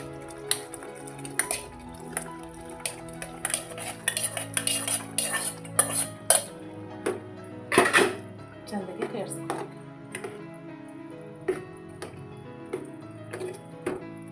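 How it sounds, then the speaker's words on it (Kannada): A spoon clinks and scrapes against a pot as boiled field beans (avarekalu) are stirred into a village-style gravy. The metallic taps come close and irregular, with soft pauses and a faint steady hum underneath. "ಅವರೆಕಾಳು ಕುದಿಸಿಟ್ಕೊಂಡಿದ್ವಲ್ಲ ಅದನ್ನು ಮಿಕ್ಸ್ ಮಾಡ್ಕೊಳ್ಳೋಣ"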